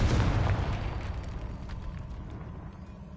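The Confringo blasting spell goes off in Hogwarts Legacy as a single loud, deep explosion at the start, followed by a rumbling decay that lingers and slowly thins out.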